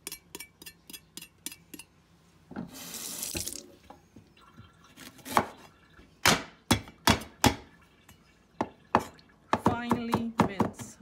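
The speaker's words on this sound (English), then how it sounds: "I'm going to cut a little bit more." A knife chops ginger on a board in rapid, even, sharp knocks, close by, interrupted once by a brief burst of running tap water and later by a quicker clattering run of cuts.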